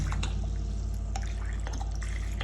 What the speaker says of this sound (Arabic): نحكم نحط كاس خل ابيض